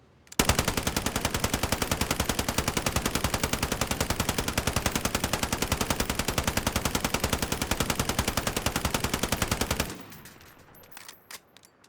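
A long uninterrupted stream of automatic fire from a gun in Call of Duty Modern Warfare during a recoil test, loud and machine-regular for about ten seconds, then cutting off to faint clicks and quiet.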